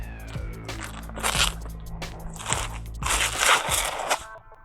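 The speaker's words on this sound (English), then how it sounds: "I'm going to turn it inside out because I'm going to peel it." A gory prosthetic leg is peeled off and turned inside out, making wet, crinkly crackling and rubbery tearing sounds in uneven bursts, close up, with a low hum underneath and no speech.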